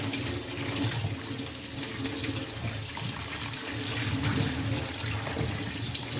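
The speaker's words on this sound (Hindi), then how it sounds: "अब आप नल की धार के नीचे इसे 2-3 बार अच्छे से धो लीजिए।" Tap water pours steadily from a faucet onto aloe vera pieces in a strainer, a continuous close splashing rush without pauses or voices.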